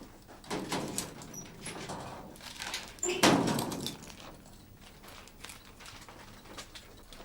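A door opens and shuts at a police station in a 1989 British police drama, with a sharp bang near the middle, shuffling and faint room noise around it and no talk.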